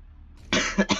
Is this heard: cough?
yes